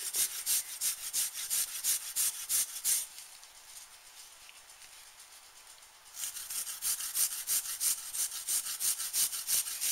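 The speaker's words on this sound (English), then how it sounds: "I'm just going to zest this garlic down into here." Garlic cloves scraped over a hand zester in quick rhythmic rasping strokes, close and crisp, with a short pause mid-way before the scraping resumes.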